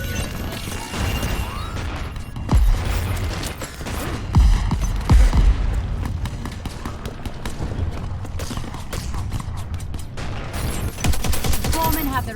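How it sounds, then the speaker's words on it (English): Dense gunfire from Crackdown 3 combat, with sustained automatic weapon fire and several heavy grenade blasts booming through a constant loud bed of battle noise. "More gunfire and grenades coming your way."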